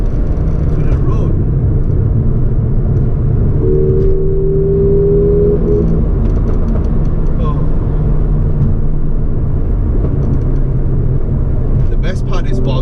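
A 2019 Mercedes-AMG GLA 45 driving hard, its engine rumbling and whirring as it accelerates, with a brief rising tone midway and a short exclamation from someone inside the car.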